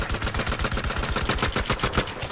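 Rapid automatic gunfire in Battlefield 4, a fast regular string of sharp close shots rattling on for a couple of seconds with no talking.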